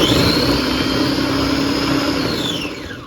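A food processor chopping vegetables, its motor whirring loud and steady close up, then winding down toward the end.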